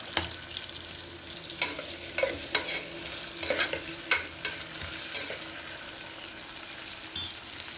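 Onions frying in oil in a pan for a mango and tamarind-leaf mutton curry, with a steady sizzle broken by repeated scraping stir strokes, close and moderately loud, with no one talking.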